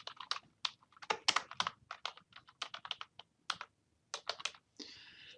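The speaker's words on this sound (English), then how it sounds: "as I was typing a word that was too long for the text box" Typing on a computer keyboard while filling in fields in Microsoft Word: a quick, irregular run of close, crisp key clicks with brief pauses, ending in a short burst of hissy noise.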